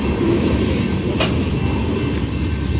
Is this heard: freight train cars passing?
yes